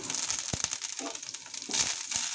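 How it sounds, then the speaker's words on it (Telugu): Dried red chillies, curry leaves and coriander sizzle in hot oil for tomato rasam, a steady close crackle with a few sharper pops and brief stirring scrapes, no talking. "ఎండుమిరపకాయ వేయాలి ఇప్పుడు కరివేపాకు కొత్తిమీర"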